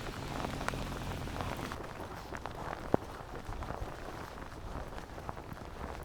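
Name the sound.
rain falling outdoors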